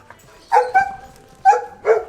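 A male dog barks nearby, giving four loud, sharp barks in two quick pairs with short pauses between them.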